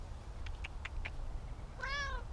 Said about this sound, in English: What is it, Kitty? What is it, huh? Are you a wild cat?